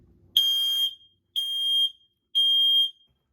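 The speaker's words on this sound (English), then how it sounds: "we just now need to test the alarm by pushing and holding the test button for 3 seconds" A First Alert combined fire and carbon monoxide alarm sounds its test signal: three loud, shrill, steady beeps of about half a second each, evenly spaced with short silences between, heard alone and close up.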